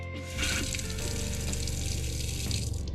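Cold water runs from a Dometic fold-away faucet into the sink of a 2021 Promaster 2500 camper van conversion, a loud steady close-up splash starting after a brief moment of quiet.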